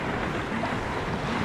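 Sea waves breaking over the rocks at a beach fishing spot, a dense continuous roar of surf with wind, loud and close, with no talk.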